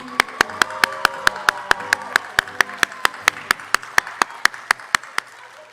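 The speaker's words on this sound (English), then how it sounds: "let's just start clapping for him" Steady, evenly spaced clapping from a high school commencement audience beating time together, sharp claps repeating about four per second before fading out.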